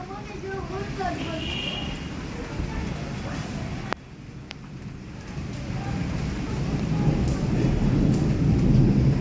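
Heavy unseasonal rain pours down in Rajkot during a thunderstorm, a steady loud roar with a sharp crack of thunder near the middle; the downpour then swells louder toward the end, with a voice briefly audible early on.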